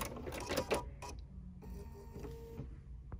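A sewing machine stitching in reverse, a short run of rapid mechanical whirring and clicking that stops and restarts, close and moderately quiet.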